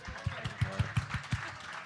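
A small audience claps in a steady rhythm for a rock band, with about seven firm, evenly spaced beats that stay fairly close and moderately loud.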